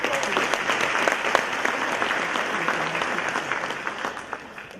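Sustained applause from a convocation audience at Alabama State University, many hands clapping in a dense, even roar that carries steadily throughout with no voices standing out.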